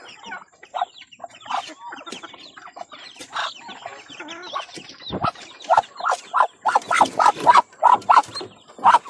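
Chickens cluck and chirp steadily nearby, the calls growing louder and more rhythmic toward the end, with no voices.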